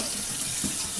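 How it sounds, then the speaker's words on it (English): Kitchen tap running steadily to rinse out a pot while cooking chicken curry, a continuous close hiss and splash of water with no talk. "gonna rinse it out with water."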